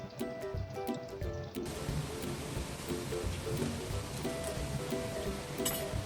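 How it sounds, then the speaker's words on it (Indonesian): Tempeh frying in hot oil, a steady dense crackle and bubbling hiss at moderate volume, with a few light clinks early on and again near the end. "Kita goreng dulu tempenya ya teman-teman."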